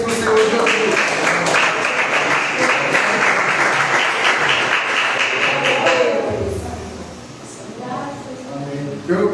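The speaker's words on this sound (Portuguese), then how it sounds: "Recebo ele com palmas bem alegres para o Senhor Jesus." Lively applause fills a church service, dense sustained clapping for about six seconds before fading into quieter room sound with a voice speaking.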